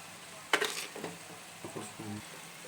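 Frying onions mixed with chili powder get stirred in a pan, giving a few brief scraping and clattering strokes over a soft sizzle.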